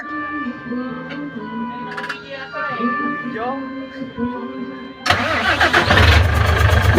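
A Fuso 6M70 truck engine cranks and fires at about five seconds, jumping into a loud, dense diesel roar that keeps running to the end; before that come background voices and small knocks.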